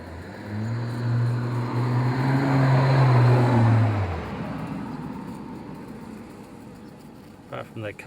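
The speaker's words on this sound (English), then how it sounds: "Apart from that car going past" A car engine swells up close and fades as the vehicle passes on a road at Port Germein, South Australia, leaving a steady background hum with a few clicks near the end.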